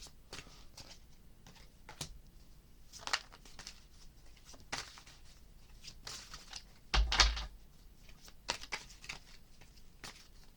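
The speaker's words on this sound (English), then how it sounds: "As you can see, I am shuffling your cards." Tarot cards shuffled by hand, a series of soft, sporadic papery riffles and taps, quiet and close, with a louder flurry partway through and no talking.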